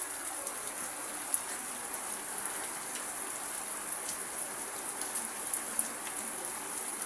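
Steady rain patters on a surface, a continuous bright hiss with scattered individual drops, no voices.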